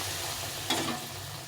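Hot water poured into a pan of chickpea and potato curry sets off a sudden loud sizzling burst partway through. The hiss spikes sharply, then settles back into a steady frying crackle.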